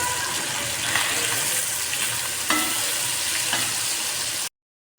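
Prawn masala fries in a pan and is stirred, a close, steady sizzle with scraping spoon strokes throughout, then the sound cuts off abruptly near the end.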